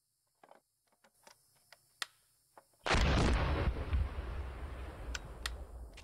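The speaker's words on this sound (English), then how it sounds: "We're taking fire here." Video game battle gunfire: a few sparse sharp cracks and ticks, then a heavy burst of weapon fire that leaves a sustained rumbling roar with scattered later shots.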